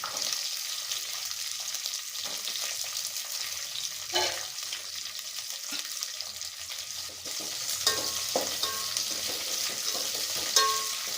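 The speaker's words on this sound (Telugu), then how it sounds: "ముక్కలు వేగుతున్నాయి కదండి" Carrot and beetroot pieces for vegetable biryani fry in a pan with a soft, steady sizzle and a few scattered spoon taps and scrapes, with no voices.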